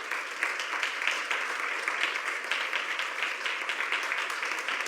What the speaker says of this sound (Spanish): Y le damos una ofrenda fuerte de aplausos al Señor.